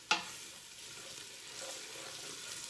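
Spices sizzle steadily in hot oil in a pan for a spaghetti sauce, with a sharp crackle at the start and a continuous frying hiss as they are swished around, no talking.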